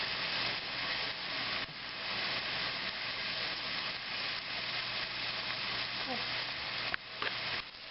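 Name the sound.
onion frying in a pan for bok choy stir fry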